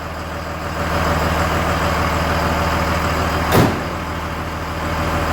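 A third-generation Cummins diesel truck engine idles steadily at close range with a constant low rumble and rattle, broken around the middle by one brief clunk like a door.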